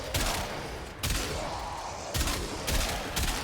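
Kuva Quartakk assault rifle firing in Warframe, short loud bursts of gunfire repeating roughly every second, each burst punchy and close with a hard attack and a ringing tail, no talking.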